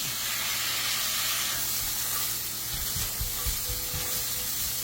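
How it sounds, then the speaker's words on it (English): Beef tips sear in a hot pan over medium heat, giving a loud, steady sizzle and hiss that fills the whole stretch with low crackling bubbling underneath. "Now I've got this pan on medium heat. And this is going to sear up pretty quick"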